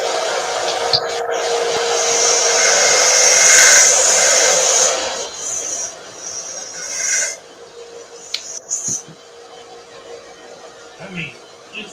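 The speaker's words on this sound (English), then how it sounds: "Now I'll go over here to my little 1-inch belt sander to do the fine stuff." Small 1-inch belt sander whirring loudly for several seconds as a workpiece is ground against the belt, then winding down, followed by scattered knocks and handling sounds.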